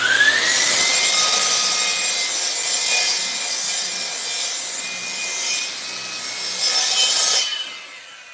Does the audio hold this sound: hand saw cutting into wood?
yes